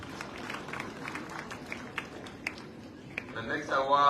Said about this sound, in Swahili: Kapigiwe makofi.